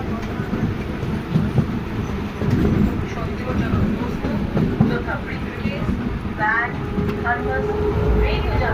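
An express train runs at full speed, a loud continuous rumble of wheels and carriages with rhythmic rattling, heard from on board while someone talks over it.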